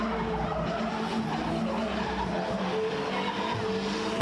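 Chevette-style car doing laps with its hood raised, tires skidding and squealing in a continuous smeared screech over a low engine rumble, fairly close.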